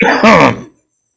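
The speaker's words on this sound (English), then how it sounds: "Number 10 laughs until he begins to cough" A single short, throaty cough close by, rough and voiced, stopping abruptly and followed by silence.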